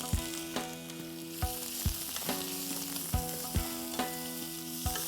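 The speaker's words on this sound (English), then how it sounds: "Let's whack the flame on high and add in our sliced red onions." Sliced red onions fry in hot oil in a pan over a high flame, giving a steady close sizzle with periodic clinks and scrapes of stirring, no voices.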